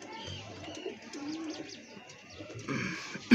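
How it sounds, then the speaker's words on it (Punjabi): An Indian white-eyed pigeon coos softly and repeatedly at close range, with other faint bird calls and background movement around it. "ਆਹ ਕਬੂਤਰ ਆ, ਇੱਧਰ ਕਰ।"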